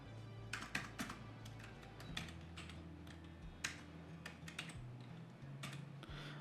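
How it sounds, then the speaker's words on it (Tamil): Typing on a computer keyboard while entering text in Figma: faint, irregular key clicks tapping in quick bursts against a quiet background hum, with no speech. "ஓகே, இதை நான் வந்து டைப் பண்ணியே சொல்கிறேன்."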